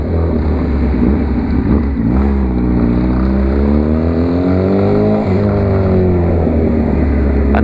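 Honda CB 1000R motorcycle engine revving loudly close by, a steady roaring drone rising and falling in pitch through repeated throttle blips, with no talk over it.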